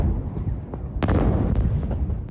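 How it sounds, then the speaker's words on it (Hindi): Repeated heavy explosions at an industrial waste site in Taiwan, a continuous rumbling roar broken by several sharp blasts and pops, loud and dense throughout. "इंडस्ट्रियल साइट में भीषण धमाके होते रहे"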